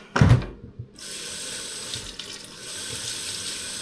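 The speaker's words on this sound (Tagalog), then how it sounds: "So hugasan muna natin guys." Garden vegetables rinsed under a running kitchen tap, a sharp splash at the start followed by a steady close rush of water filling the sink.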